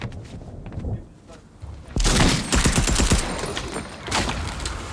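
Gunfire in the video game Fortnite comes as a dense burst of shots and impacts in a match, loud and busy, and players talk during the fire.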